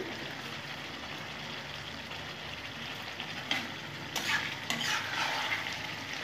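Boneless chicken cooking in a pan with ghee hisses steadily at a quiet level, then scraping strokes of a utensil stirring it come in more loudly toward the end.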